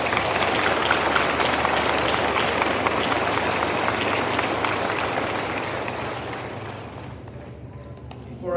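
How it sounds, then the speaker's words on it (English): Sustained applause from a crowd of families and guests at an Officer Candidate School graduation ceremony in Newport, steady and dense before thinning out near the end. "How about a round of applause for the instructors"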